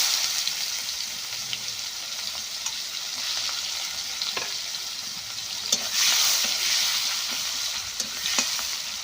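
Cumin and chopped onion frying in hot oil for an egg curry, a steady close sizzle with occasional louder pops and crackles as the pan is stirred, with no voices.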